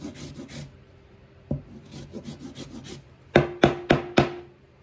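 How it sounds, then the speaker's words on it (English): A lemon being zested by hand for a strawberry lemonade poke cake: rhythmic rasping scrapes, a quieter run of strokes and then four sharp, louder strokes close by, with no talk. "I'm just going to zest me some here"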